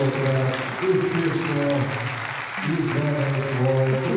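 Crowd at a men's floor exercise competition at the 2022 Koper World Challenge Cup applauding, a steady moderate clapping under a commentator's voice throughout.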